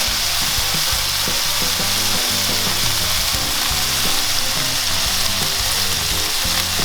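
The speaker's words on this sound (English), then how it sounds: "placing it skin side down onto the grill" Marinated salmon laid skin side down on a hot barbecue grill, a loud steady crackling sizzle that continues without a break, close and alone.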